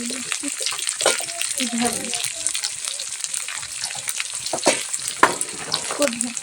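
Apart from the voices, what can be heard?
spice tempering (phoran) frying in a pan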